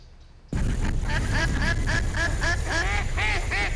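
Ducks at a duck impoundment quack loudly and continuously in a dense, overlapping chorus, close and steady, beginning abruptly after a brief quiet moment.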